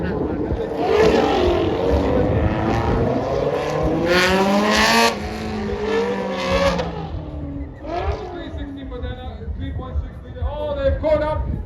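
Ferrari 430 V8 race cars at Brands Hatch scream past with rising and falling engine notes as they accelerate and pass by, loud and close, under a commentator's voice.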